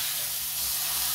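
Minced meat sizzling in a pan over the fire, a loud, steady, close hiss with no breaks and no talk.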